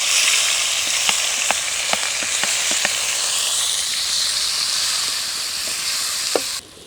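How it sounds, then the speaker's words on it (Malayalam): Crushed garlic and shallots frying in hot oil for a Kerala-style pearl spot dish, a steady close sizzle throughout with several sharp crackles and pops, the sizzle cutting off abruptly at the end. "ഇത് നമുക്ക് ആ ഓയിലേക്ക് ഇട്ട് ഒന്നും ഇങ്ങോട്ട് മൂപ്പിച്ചെടുക്കാം."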